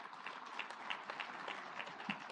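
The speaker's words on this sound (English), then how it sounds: "a better applause for her." A conference audience gives a quiet round of applause, the clapping soft and distant, with a few distinct hand claps popping out of the steady patter.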